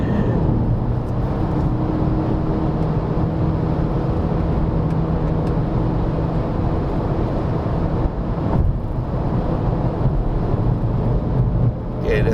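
A 2019 Volkswagen Beetle 1.2 TSI climbs the Genting hillclimb, its engine and road noise a loud, steady in-cabin drone with a brief dip and bump partway through.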